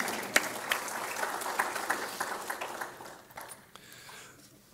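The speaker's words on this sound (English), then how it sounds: "we can clap for her in her absence" A room full of people applauds, a soft, scattered patter of clapping that fades out after a few seconds.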